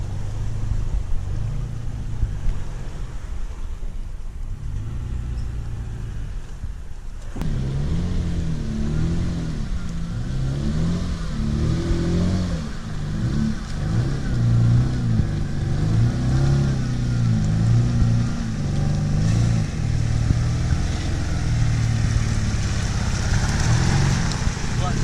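A framed-out FJ Cruiser off-road, its engine droning low and steady before rising into heavy revving as it pushes through a water hole on a trail, loud and close throughout.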